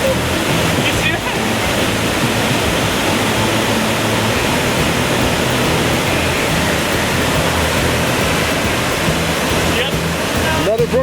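A Georgia waterfall roars with broadband rushing water at a trout fishing spot near its base, loud, close and unbroken throughout, with no other sounds standing out.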